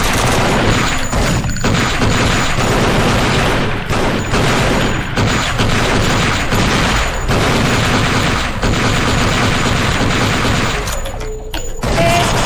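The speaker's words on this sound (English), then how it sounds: "it's easy to run out of machine gun ammo," Machine gun fire from the Flash action game Thing Thing 3, a loud continuous barrage of rapid shots and impacts filling the whole stretch, with occasional heavier bursts.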